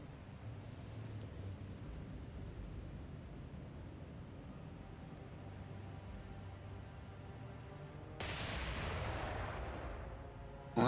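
Naval gunfire from enemy ships in a naval battle video game: low, distant rumbling and wind-like ocean noise, then a sudden heavy blast that bursts in and slowly decays.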